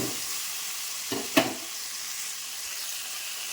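Tomatoes sautéing in oil, a soft steady sizzle broken by a sharp scrape or clink of the utensil near the middle.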